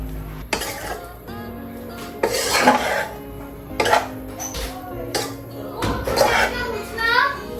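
Ingredients being mixed in a bowl at home for a birthday meal, with repeated clinks and scrapes of a utensil against the dish in short bursts, close by, while children chatter in the background.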